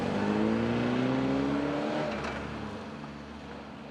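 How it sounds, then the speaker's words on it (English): A Fiat 124 Berlina four-cylinder engine runs close by, its note climbing smoothly as revs rise, then easing into a steadier, slightly quieter drone with no talk. "The moment that engine switches on, you absolutely know that this is an Italian"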